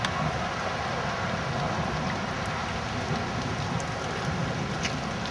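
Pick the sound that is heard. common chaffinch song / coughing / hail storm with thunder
hail storm with thunder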